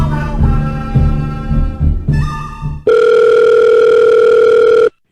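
A steady telephone dial tone sounds loud and unbroken for about two seconds, placed while making calls to reach NFL quarterbacks for the Dallas Cowboys, following a stretch of brief tonal bursts and clatter.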